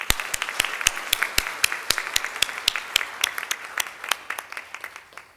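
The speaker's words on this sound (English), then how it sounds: "he deserves one more round of applause" Audience at an IBPC Dubai governance event applauding the chairman, a small crowd's clapping heard as distinct, fairly regular sharp claps at a moderate distance, gradually thinning out toward the end.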